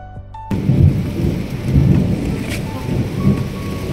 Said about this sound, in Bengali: এই বৃষ্টিটার দরকার ছিল।